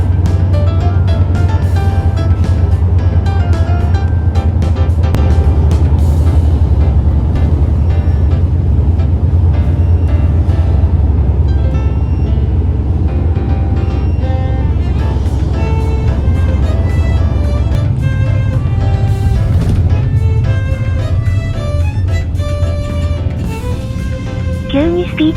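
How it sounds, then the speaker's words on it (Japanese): A minibus rolls along a road in Thailand during the rainy season, its low engine rumble and road noise steady and close from inside the cabin, with a voice talking over it. "さらにミニバスは進みます"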